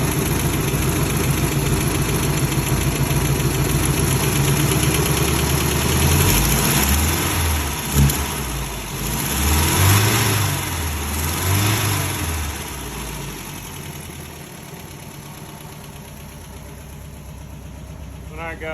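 An MGB engine with twin carburetors, unadjusted valves and old ignition points idles loudly and steadily nearby, with a few gentle throttle blips in the middle before it settles back to a smooth idle.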